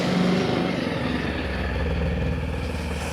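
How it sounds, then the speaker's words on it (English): A TVS RTX 300 motorcycle engine runs steadily after an oil change, a loud close-up mechanical drone with clattering valve ticks and a low rumbling exhaust, continuous and with no one talking. "we need to start the engine and let it run for around 60 seconds"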